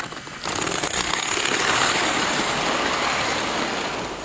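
A Hornby Heritage Rail Express model train running on its track, a steady buzzing motor whir with rattling wheels that starts abruptly and holds at an even level.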